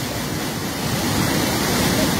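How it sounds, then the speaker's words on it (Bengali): Floodwater in Habiganj pours hard through a broken embankment at Jalalabad, swollen by two days of rain on the Khowai river. It makes a loud, continuous roar of rushing water with no pauses, close by and alone. "জালালাবাদের বাঁধ ভেঙে প্রচণ্ড পানি ঢুকতেছে"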